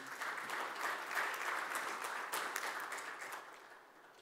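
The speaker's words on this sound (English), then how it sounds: "Can we have a round of applause for all of them, please?" Round of applause for the workers behind an ambitious project, a fairly distant, continuous crowd clapping that swells early and then slowly fades toward the end.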